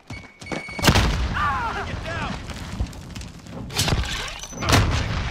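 A grenade blast in Call of Duty Modern Warfare lands as a deep boom within busy combat, alongside other thuds, radio chatter and shouted callouts.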